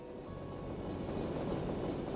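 Tram in the video game Trails Through Daybreak rolling along its rails, a steady low rumble with faint clickety-clack that grows slightly louder over its short span, no voices.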